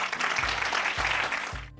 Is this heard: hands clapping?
yes